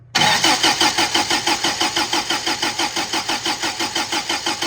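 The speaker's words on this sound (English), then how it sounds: "We've been cranking and cranking." An 1980s turbocharged Toyota truck engine cranks steadily without catching, the starter's rhythmic chugging loud and close, repeating evenly for several seconds after an abrupt start.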